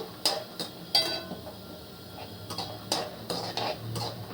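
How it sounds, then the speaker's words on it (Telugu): Ingredients for nalleru chutney stir-frying in a pan over low heat, with a spoon scraping and clinking against the metal in scattered taps over a faint, steady sizzle. "ఇవన్నీ సిమ్లో పెట్టి వేయించాలండి హైలో పెట్టకూడదు"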